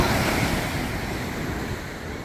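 Ocean surf rolling onto Miami Beach in the morning, a broad continuous wash of waves mixed with wind buffeting the microphone, loud and close with no voices.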